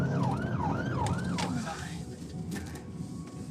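An ambulance siren wails in a rising-and-falling yelp close by, over the rumble of the vehicle on the road, fading somewhat toward the end.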